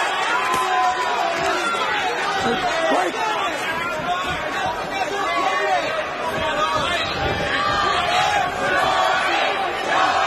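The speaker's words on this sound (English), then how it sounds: "The crowd trying to rally their local favorite." Boxing arena crowd cheering and shouting to rally their local fighter during the sixth round, a dense continuous roar of many voices with rising yells.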